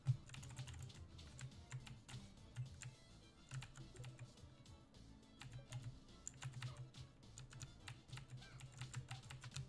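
Computer keyboard keys tapped in quick, uneven bursts while playing the side-scrolling game Shantae: Half-Genie Hero, close and clear with a low hum beneath, no talking.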